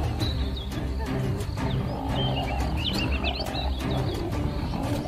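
A lion roars on an African plain where a herd of buffalo is gathered, a deep rumbling call held throughout, with bird calls chirping faintly over the top.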